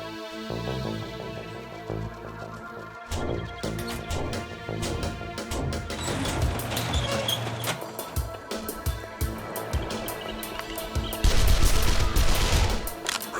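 SMG gunfire tearing into a zombie in the survival game 7 Days to Die: loud, rapid bursts of shots with sharp impact and crash noises, pausing briefly and then picking up again into a heavier, denser volley near the end.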